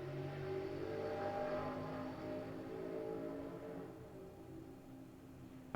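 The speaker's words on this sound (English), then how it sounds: "That car in the background?" A loud car passes in the background outside, its engine noise swelling and then slowly fading away as it drives off.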